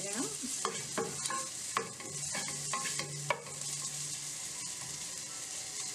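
Chopped onions sauté in a pan for paneer fried rice, giving a soft steady sizzle under repeated scraping and clinking stirs of a utensil against the pan.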